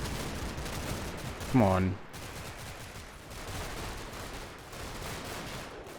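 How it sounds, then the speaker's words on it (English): Machine gun fire in Combat Mission: Battle for Normandy rattles as faint, repeated distant bursts under a steady battlefield rumble, with a brief spoken voice cutting in. "Oh, there's a machine gun there again."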